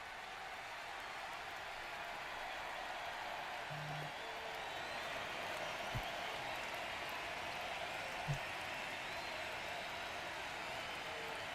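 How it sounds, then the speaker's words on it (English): A baseball video game stadium crowd during a 2026 ALDS playoff game with the Rays cheers and roars in a steady, dense wash, with a couple of faint knocks and no speech. "The crowd is electric"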